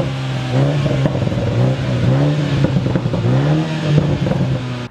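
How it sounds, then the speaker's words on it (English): A brand-new 2019 BMW Z4 G29 roadster with new exhaust pipes on either side of the bumper revs hard. The engine note rises and falls in repeated pitch sweeps, loud and close, with no talk. "So the exhaust note has been a real treat on this car."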